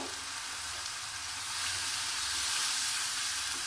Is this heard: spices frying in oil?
yes